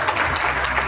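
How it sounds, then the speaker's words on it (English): Audience applause for a volunteer invited onto the stage at a motivational seminar, a steady dense wash of clapping that fills the whole short moment at even loudness. "Give a round of applause."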